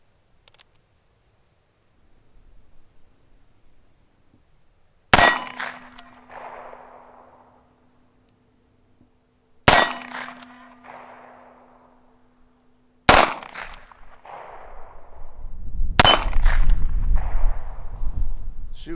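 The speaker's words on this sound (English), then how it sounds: "It's going to be taking some shots to see how the sights are." Four loud shots from a small Heritage Barkeep revolver aimed at a target at close range, spaced several seconds apart, each a sharp report with a short decaying echo, the last followed by a low rumbling noise.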